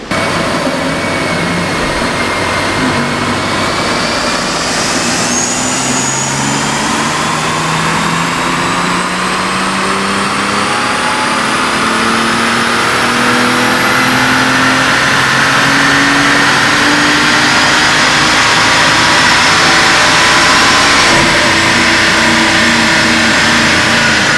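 A BMW M240i on a dynamometer revs hard through a long pull, its loud engine note climbing steadily in pitch for over twenty seconds with no voices.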